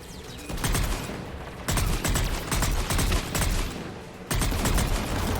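Missile launches and gunfire from the video game Mass Effect 3: dense bursts of shots and blasts in three loud volleys, broken by short lulls, with no talking.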